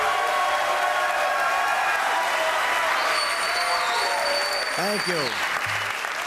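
Comedy club audience applauding loudly and steadily for a stand-up comedian being introduced, a dense wash of clapping with crowd noise throughout, while someone speaks over it briefly.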